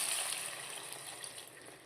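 Water pours from a vessel into a pan of cooking vegetables for tamarind curry, a brief, soft, continuous splashing gush heard close and alone.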